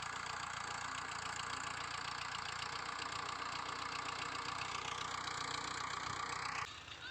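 A farm tractor's engine idles steadily right after starting, a continuous low mechanical drone with a faint knocking rhythm that holds evenly before dropping off abruptly at the end.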